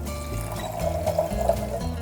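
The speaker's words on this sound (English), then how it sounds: "I'm now pouring for myself" Red wine poured into a tasting glass, a short close gurgling stream with a rising pitch as the glass fills, lasting about two seconds with no speech.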